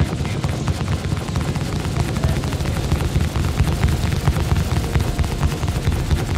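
Rapid, continuous bursts of Gatling turret fire from a HammerHead ship in Star Citizen, loud and dense, a rattling stream of shots over a deep rumbling low end.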